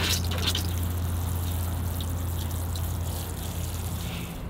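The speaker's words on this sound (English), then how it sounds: "Okay, time to water them." Small bonsai seedlings in pots being watered outdoors, giving a steady, close splashing and pattering of water that runs unbroken throughout with no voices.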